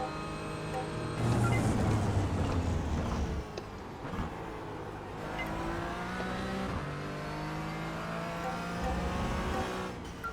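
A race car engine accelerates hard in third gear from the cockpit, its pitch rising through several climbs and dropping at shifts, loud and near, with no talking.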